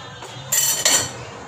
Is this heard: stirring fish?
yes